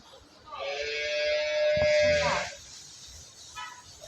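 Dairy cows on a cattle farm give a long, loud moo that swells and fades, heard fairly close, followed by quieter farm background.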